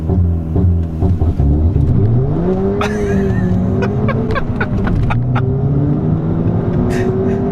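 A tuned Stage 3 Ford Fiesta ST engine held at high revs on launch control, droning loudly and rising and falling in pitch, with sharp popping crackles from the exhaust.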